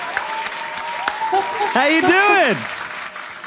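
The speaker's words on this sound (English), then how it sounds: "I haven't heard applause for myself in so long" Applause rings out for a guest on a virtual talk show, a steady wash of clapping running through the whole moment while someone speaks over it.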